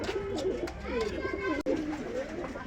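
Kaldam pigeons, a breed with yellow eyes, coo and call close by in a Khulna pigeon market, with someone talking over the soft, repeated cooing throughout.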